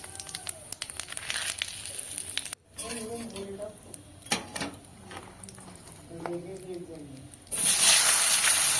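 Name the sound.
cumin seeds and bay leaf tempering sizzling in hot oil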